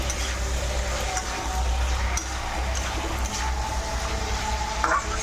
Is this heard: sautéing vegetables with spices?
yes